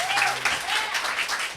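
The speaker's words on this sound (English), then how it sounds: "Please give a hand." Brief applause from a poetry reading audience welcoming a poet, a short burst of clapping with a voice briefly heard at the start.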